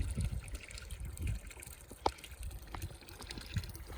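Water drains and trickles steadily through angled aquaponics NFT pipes in a vertical setup, a close, continuous gurgling flow with a few small splashes and drips.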